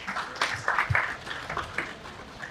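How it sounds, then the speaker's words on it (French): An audience applauds at the closing ceremony of a language seminar, moderate uneven clapping with some sharper hits, heard fairly close and fading slightly toward the end. "On va également applaudir pour eux et elles."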